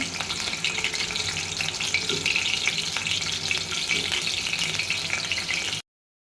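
Chopped frozen onions crackle and hiss in hot oil in a kadai, a loud, dense and steady sizzle that runs without a break for nearly six seconds and then cuts to silence.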